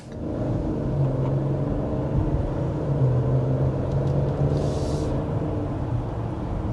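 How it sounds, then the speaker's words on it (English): Steady, smooth engine hum and road rumble from a 2025 Mercedes GLS 450 SUV accelerating through its 9-speed automatic, heard from inside the cabin at an even level with no talking. "accelerating there is a great example of just how smooth the 9-speed automatic transmission is on this GLS"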